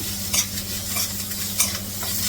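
Garlic, ginger and onions sauté in a pan, a steady sizzle with occasional scraping stirs of a spoon across the pan, close and continuous.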